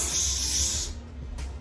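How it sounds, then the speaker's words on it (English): Aerosol spray paint can hissing out a light coat onto a custom Nike Air Force 1 sneaker, a steady close hiss for under a second before it cuts off, followed by quiet room tone and a brief second puff. "When you're spraying, don't oversaturate."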